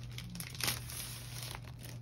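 Packaging for a stamp set crinkles and rustles up close as it is pried open, soft papery crackles with one sharper crunch.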